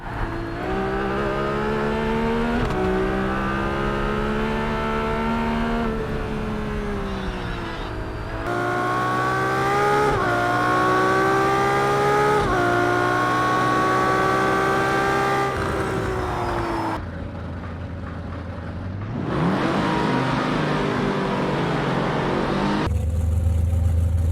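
Racing-game car engines from Project Cars 3, revving up through gears with rising whine, abrupt cuts between shifts, a drop to near silence, then more acceleration; loud, close, and without talk.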